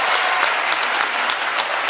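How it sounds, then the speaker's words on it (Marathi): Loud, dense applause from a large audience at a lecture event, the clapping strong and continuous across the whole moment with no voices over it. "एकदा जोरदार टाळ्या होत्या विचार मंचासाठी"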